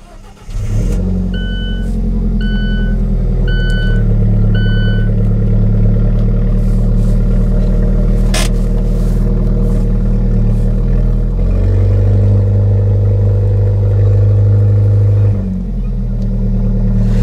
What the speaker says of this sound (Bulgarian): Ето сега запалваме. по старомодния начин, не с бутон